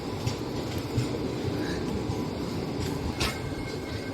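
A train rumbles steadily at Shivamogga Town railway station on the Bengaluru–Talaguppa line, a dense, continuous rolling roar with faint wheel squeals and a brighter burst near the end, no voices.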